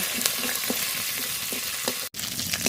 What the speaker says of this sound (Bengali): রসুনটা তেলের উপরে একটু ভেজে নিয়েছি,